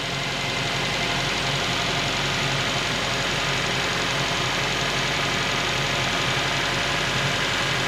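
A Suzuki Grand Vitara with an M16A engine and a freshly re-sleeved block idles smoothly and steadily, a close, continuous engine hum holding an even level throughout with no other sounds.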